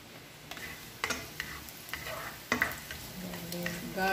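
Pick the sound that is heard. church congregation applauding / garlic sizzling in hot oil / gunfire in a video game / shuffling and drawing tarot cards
garlic sizzling in hot oil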